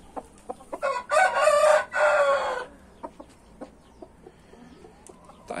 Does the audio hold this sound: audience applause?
no